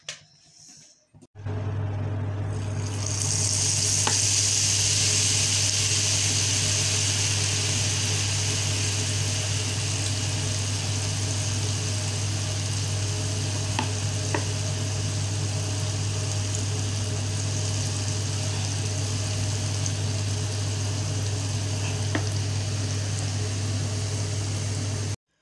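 Malpura batter fries in hot oil after a brief quiet start, giving a steady, loud bubbling hiss that continues evenly for the rest of the clip, with an occasional faint click.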